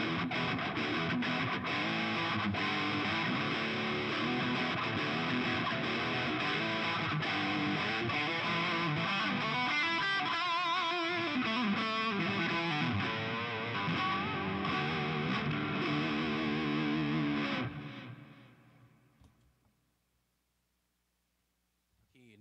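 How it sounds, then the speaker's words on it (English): Electric guitar played through a Boss BD-2 Blues Driver stacked with another drive pedal for a JCM800-like distortion, a loud, gritty run of chords and riffs that ends on a ringing chord fading out. "now I'm going to tone stack it with the BD2, which is going to sound more like a JCM 800"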